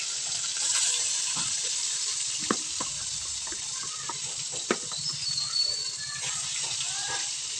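Pieces of rohu fish coated in salt and turmeric sizzle in hot oil, a steady close crackling hiss with scattered sharp pops throughout.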